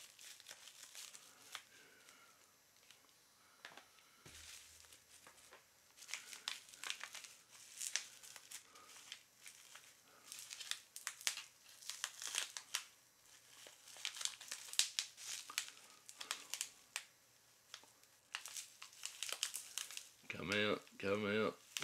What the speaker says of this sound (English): God, I hate trying to cut bubble wrap.